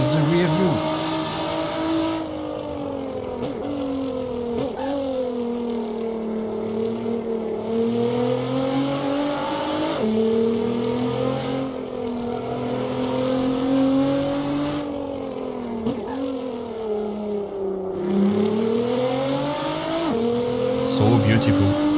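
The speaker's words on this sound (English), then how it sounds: "So in order to listen to such a beautiful engine, better to use the rear view." A race car in the Assetto Corsa racing game, heard from the rear view, its engine and exhaust revving up and down through repeated gear changes, loud and continuous with someone talking over it.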